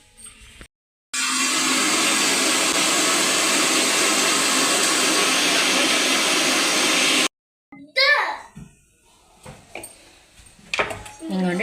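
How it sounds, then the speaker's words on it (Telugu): A kitchen mixer grinder runs loud and steady for about six seconds while fish curry is prepared, then stops abruptly, followed by voices talking and light handling sounds. "ఈ మిక్సీ పెట్టేస్తానండి."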